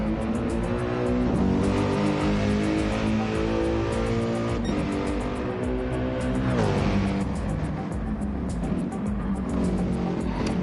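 A Gr.3 race car engine roars loudly and continuously in a racing video game set at Bathurst, with a steady revving drone and rising pitch shifts as it drives past near the pits.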